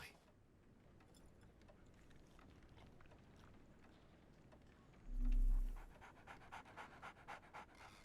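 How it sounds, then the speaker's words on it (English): A dog pants quietly in the Sherlock Holmes: The Awakened video game, soft rapid breaths under a low ambient game background, with one brief louder swell near the middle. "So, Barnes has a dog now."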